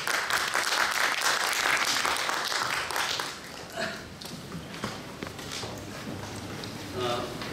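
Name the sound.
audience applause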